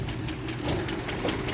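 A Range Rover Vogue's M62B44TU V8 knocks while running, a dense rapid ticking under a steady engine drone, heard up close and continuously.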